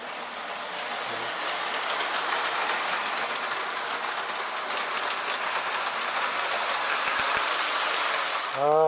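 A K-Line Hershey's model train set with an SW15 diesel runs continuously with a steady whirring clatter and faint rhythmic clicking, ending in a short high squeal.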